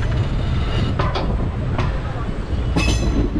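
Heard from on board, the West Coast Express rolls into Erode Junction at night with a loud, steady rumble, rhythmic clickety-clack of wheels over rail joints, a few sharp clanks, and faint voices nearby.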